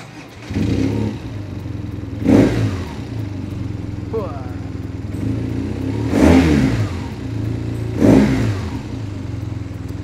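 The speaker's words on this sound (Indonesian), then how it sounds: "gue akan nunjukin ke kalian gimana sih suara mesin dari R90 tahun 2017 ini" A 2017 BMW R nineT motorcycle engine idles steadily, then revs up sharply three times, each rev swelling loud and dropping back to a low rumble.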